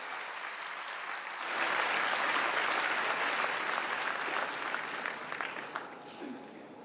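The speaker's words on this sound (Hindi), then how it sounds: "बहुत जोरदार तालियां इनके लिए।" A crowd at a pilgrimage welcome breaks into strong applause after a quiet moment, rising to a dense, sustained clapping that slowly tapers off over several seconds.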